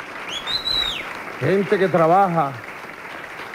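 Audience applause at a morning broadcast event, a steady rustle of clapping running under a voice speaking over it.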